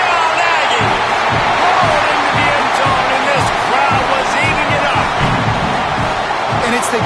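A dense, steady roar from a college football crowd at a Texas A&M versus Auburn game cheers an Aggie touchdown, a loud, continuous wash of many voices with scattered shouts and whoops throughout.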